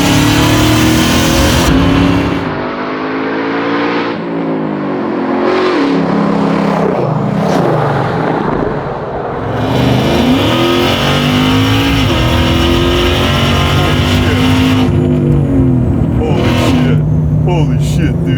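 1,300HP custom widebody Dodge TRX pickup accelerating hard, a loud close engine roar that swells and falls through repeated bursts, with people talking inside the cab.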